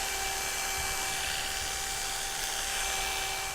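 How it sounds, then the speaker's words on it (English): An electric hair clipper buzzes steadily and close while cutting hair, a constant high-pitched hum with faint rustling of hair underneath. "tilting the clipper slightly so that we preserve weight through the parietal ridge"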